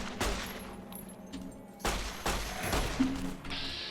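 Gunfire in VATS in Fallout New Vegas: a few loud, sharp shots spaced across the moment, with clattering mechanical noise between them and no talk.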